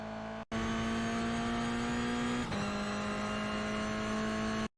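Toyota GR86 race car at Oulton Park International in iRacing, engine buzzing loud and steady under load, pitch climbing slowly before a brief shift and continuing, then cutting off abruptly.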